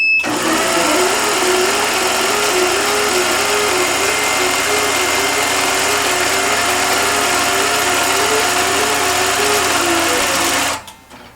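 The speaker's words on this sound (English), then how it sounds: "I'm going to speed up my machine again. I'm going to make the needle go faster." Sewing machine running fast with the needle set past its vibration point, a loud steady whirring hum with a rapid pulsing stitch rhythm, stopping abruptly near the end.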